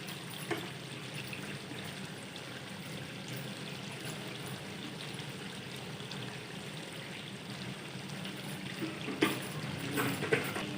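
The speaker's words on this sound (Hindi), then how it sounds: "दो से 3 चम्मच ऑयल डालेंगे।" Two to three spoons of cooking oil poured into a pan for mutton karahi, a soft, continuous hissing stream with a few faint clinks, growing slightly louder near the end.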